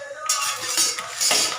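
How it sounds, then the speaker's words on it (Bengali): A spoon clinks and scrapes against a cup as tea is stirred, a quick run of close, bright metallic taps with no voices. "চামচ নিচ্ছে, চা ঘাঁটছে"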